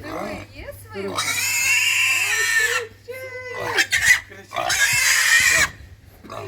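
Piglets at a Ukrainian farm sale oink and squeal loudly in repeated bursts, close by, with people talking in between.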